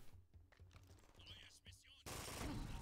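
Rapid gunfire in the video game Brink, a quick patter of clicking shots up close followed by a sudden loud burst of noisy fire, with quiet talk underneath.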